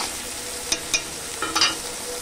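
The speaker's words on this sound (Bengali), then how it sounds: "যে পেঁয়াজ রসুন আদা সব বেটে রেখেছিলাম, সব একসঙ্গে এটা ভালো করে ভেজে নেব" A paste of onion, garlic and ginger fries in oil while being stirred, with a steady sizzling hiss and a few quick scraping strokes of the spoon.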